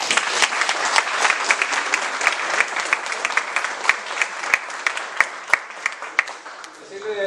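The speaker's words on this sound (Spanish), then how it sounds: "Les pido un aplauso para la directora." An audience claps for a municipal health director at a senior citizens' week event; sustained applause with sharp individual claps standing out, thinning near the end as a voice begins.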